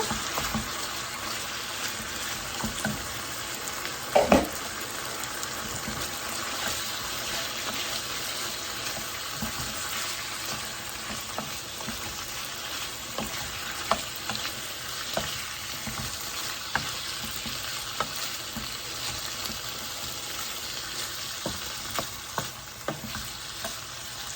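Chicken pasty filling with onions and spices fries in a pan, a long steady sizzle with scattered soft scrapes and taps of a stirring utensil, a clear knock early on, and no speech.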